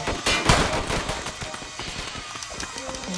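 Rapid AR pistol gunfire in a Chicago street video game, a burst of sharp close shots at the start that thins to scattered shots under game background noise.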